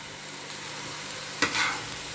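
Tadka spice tempering hits a pan with a sudden burst of sizzling about halfway through, after a quiet, low background hiss, with the frying staying audible to the end.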